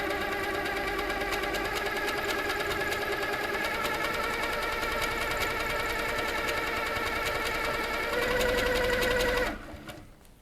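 A Handi Quilter Sweet Sixteen sewing machine stitching at a steady fast rhythm, a continuous mechanical whirr and tick that stops abruptly near the end, close and alone.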